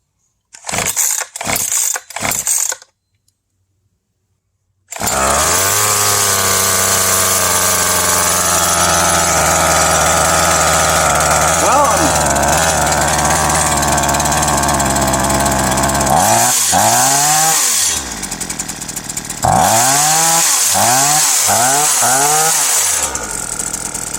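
A small engine with a newly replaced carburetor is pulled three times, then catches and runs steadily and loud, with several rising and falling revs near the end.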